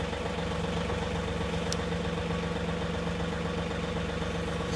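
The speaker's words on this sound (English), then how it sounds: "Let's put the tractor in gear." A tractor engine idles steadily on a farm, a loud, even mechanical drone with a constant low hum that holds without change throughout.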